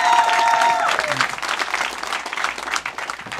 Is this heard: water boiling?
no